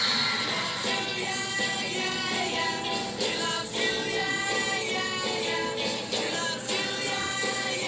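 A 1960s song plays on air during a morning TV show, a dense, steady mix of music at moderate level with no talk over it.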